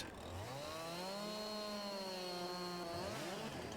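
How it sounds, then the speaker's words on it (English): Chainsaw cutting into wood in Farming Simulator 22, its steady high engine whine holding for several seconds with a rising and falling pitch, echoing around a snowy valley on a French plain. "You can hear the chainsaw sort of echoing all around the valley."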